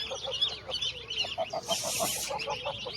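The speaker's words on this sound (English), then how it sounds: "There's nine geese chicks and 7 ducklings." Goose chicks and ducklings out in the open call together, a run of quick, rhythmic peeping and honking notes close by, with a brief burst of rustling or flapping midway.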